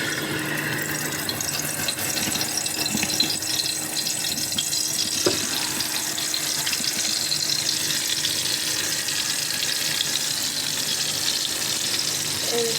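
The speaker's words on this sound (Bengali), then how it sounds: "এই যে মাছ ভাজি হচ্ছে," Spiced fish frying in hot oil, a dense, even sizzle and crackle that holds steady throughout, close and continuous with no voices.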